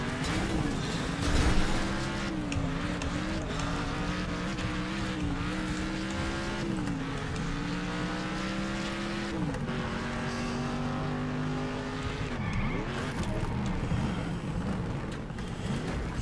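Cars in a racing video game roar continuously, their engine tones climbing and dropping through gear shifts, with tire squeals and a passing car along the way. The engines are loud and steady, and no one speaks.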